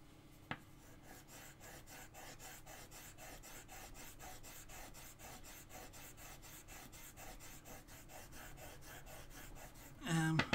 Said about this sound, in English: I'm going to sharpen the chisel because I need to do this using really fine slivers